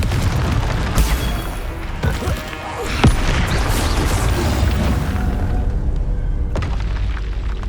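Confringo fire spell in Hogwarts Legacy blasting a target, producing loud rumbling booms and crashing bursts that rise and fade over several seconds, with no talk.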